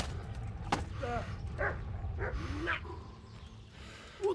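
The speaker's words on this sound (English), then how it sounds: "I hate dogs in this game" Dogs bark and yip in a medieval game, Kingdom Come: Deliverance, several short sharp barks spread through a noisy battle scene with shouting voices.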